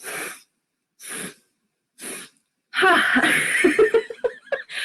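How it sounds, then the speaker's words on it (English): Three quick, separate sharp inhales spaced about a second apart for the breath of joy exercise, followed by a burst of laughter. "you breathe in 3 times after one another without breathing out"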